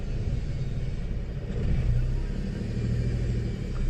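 A manual car pulling away from a standstill on an uphill slope, its engine giving a steady low rumble that swells slightly as it takes off, heard close up from inside with no talk.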